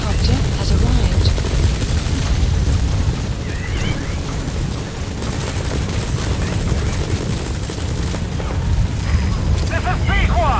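Support helicopter arriving in the video game Metal Gear Solid V: The Phantom Pain, a steady loud rotor roar that runs throughout, mixed with bursts of gunfire and explosions while radio voices talk over it.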